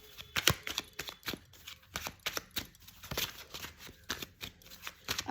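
Tarot cards are shuffled up close in a quick run of crisp riffling slaps and flutters, repeating steadily with no voices.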